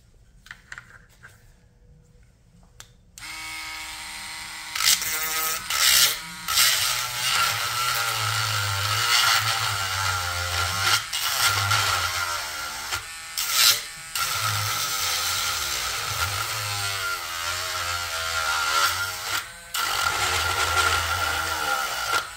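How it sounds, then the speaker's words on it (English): A Dremel 7350 rotary tool sands down a holster, its high buzzing whine starting after a quiet few seconds and running near and loud, wavering in pitch as it bites and lifts, with short breaks along the way. "This is how much I'm going to try to sand off with the Dremel."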